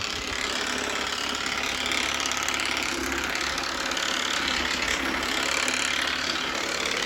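Shark IQ robot vacuum with self-empty bin running loudly on a hard floor, a steady, close, continuous mechanical whir with a rattling, clattering edge and no pauses.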